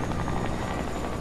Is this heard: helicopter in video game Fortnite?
yes